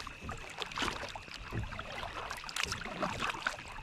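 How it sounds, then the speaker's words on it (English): A new kayak paddled on water, with close splashy paddle strokes and dripping at an irregular rhythm over light wind noise, no talking. "just come out for a quick paddle. Trying to get used to the new kayak"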